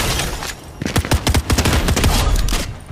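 A Fortnite firefight crackles with a flurry of closely spaced gunshots, loud and near, clustered in a rapid volley through the middle, with a steadier rumble underneath.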